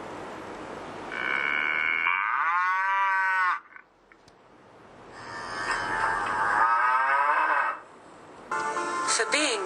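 Domestic cattle mooing in a few long, drawn-out calls with harmonic, wavering tones, fairly loud and close, separated by brief quieter gaps.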